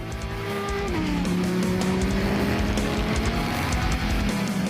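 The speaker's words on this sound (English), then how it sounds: "we didn't miss the chance to take the Huracán Tecnica out on the racetrack for a few laps" A 2022 Lamborghini Huracán Tecnica driven hard on a racetrack, its engine a loud sustained roar with a rising pitch as it accelerates, mixed with tire noise and wind, close and continuous.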